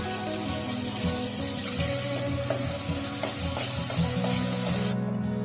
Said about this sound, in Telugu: రుబ్బి పెట్టుకున్న మిశ్రమాన్ని దీంట్లో వేసుకోవాలండి. బాగా వేగాలి, పచ్చివాసన పోయేదాకా వేయించుకోవాలి.